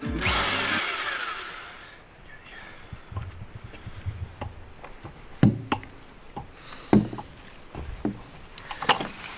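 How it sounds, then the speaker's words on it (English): A power drill bores a series of holes through a caravan wall, opening with a loud sustained whine and then giving way to repeated short bursts and clunks as each hole is started, close by with no talking. "Right, so I'm just going to drill a hole here, here, here and here."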